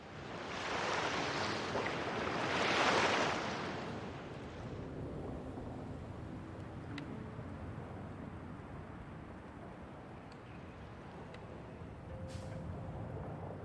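In the Assassin's Creed Valhalla map, a water ambience plays as a soft, wide wash of surf, swelling twice early on and then settling to a faint, steady hush with a few light clicks.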